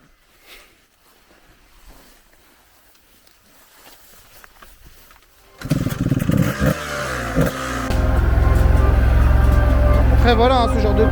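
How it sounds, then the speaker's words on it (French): A quad bike engine starts up about halfway through, after quiet rustling and footsteps, then runs at a loud, rough idle with a low throbbing rumble and occasional revs. "ce genre de quad ça monte vraiment tout"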